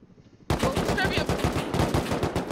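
Rapid automatic gunfire from a video game rattles out in a dense, continuous burst of sharp, evenly spaced shots, loud and close after a brief quiet start.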